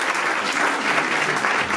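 Audience applause welcoming a guest onstage at a presentation event for a half-marathon in Nuits-Saint-Georges, France; steady, dense clapping from a full room lasting throughout, loud and continuous with no talk over it.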